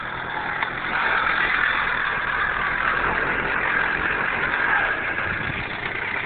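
An 80cc engine on a motorized cruiser bicycle runs with a steady, buzzing drone. It sounds close and fairly loud, holding an even pitch with no talk over it.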